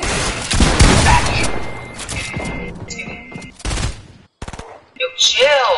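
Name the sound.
gunfire in a video game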